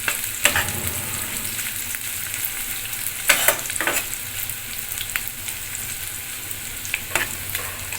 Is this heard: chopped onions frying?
yes